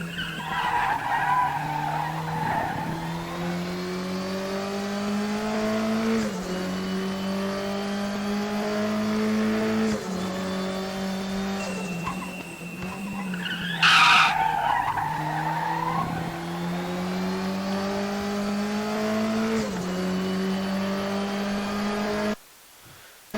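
A turbocharged Volvo 240T race car in the Raceroom racing game laps the Macau street circuit, its engine droning and rising through repeated gear changes while tires screech and skid through corners, loud and continuous.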